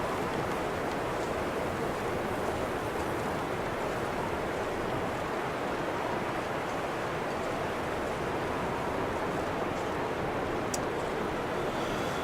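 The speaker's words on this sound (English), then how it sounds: "Very windy." Strong, steady wind roars across a snowy wilderness in the survival game The Long Dark, a dense continuous gusting rush that fills the whole scene without pause.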